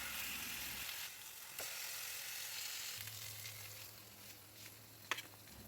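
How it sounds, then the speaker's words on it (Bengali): Chicken pieces fry in melted butter in a frying pan over low flame, a quiet, steady sizzle with a few light clicks of turning. "ফ্রাইং প্যানে বাটার মেল্ট করে চিকেনের পিসগুলোকে একে একে লো ফ্লেমে এপিট ওপিট করে ভেজে নিয়েছিলাম"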